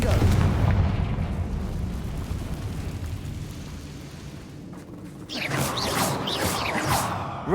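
A fire spell detonates in Hogwarts Legacy, a booming, rumbling explosion that rolls on for several seconds, then a bright crackling burst of fiery debris near the end, heavy low rumble throughout and no talk.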